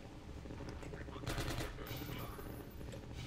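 Rapid gunfire in Half-Life 2: Episode One, a dense rattle of shots through the clip with a louder burst near the middle, mixed with game ambience and faint talk.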